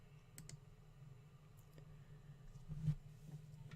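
Soft computer mouse clicks while a tool is selected in Illustrator, faint and sparse with a few light taps over a quiet hum.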